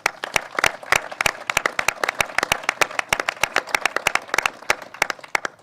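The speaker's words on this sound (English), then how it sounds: "I'd like to give them a round of applause." Scattered audience applause after a talk about water and brown tide research: a few dozen sharp, distinct claps at a steady, moderate pace, close and fairly loud, with no voices.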